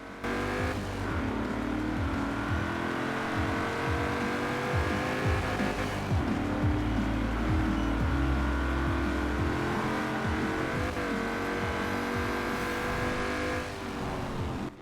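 Stock 1988 Holden VL Commodore SV in Forza Horizon 4 drives with a steady engine drone, revving up and easing off through gear changes with faint tyre noise, continuous and close.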